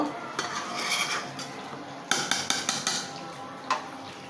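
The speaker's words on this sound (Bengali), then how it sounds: "আমি মাংসগুলো সুন্দরভাবে কষিয়ে নিব এখানে আমি সব ধরনের মশলা দিয়ে দিছি" Spiced meat being stirred and braised in a metal pot, with close clinks and scrapes of a spoon against the pot, a cluster of sharp knocks in the middle, and a soft sizzle underneath, with no talking.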